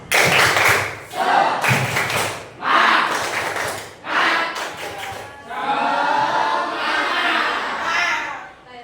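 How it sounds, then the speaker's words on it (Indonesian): A group of children and adults claps together in bursts, rhythmic rounds of clapping with short pauses between, lively and close, with children's voices mixed in. "Dari nanti tepuk tangan dulu. Tepuk semangat."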